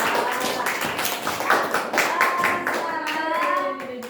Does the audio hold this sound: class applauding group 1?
yes